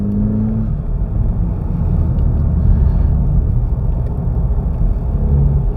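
Steady low engine drone and road rumble inside a 2022 Volkswagen Polo GTI in sport mode, a continuous moderately loud cabin hum with no talking.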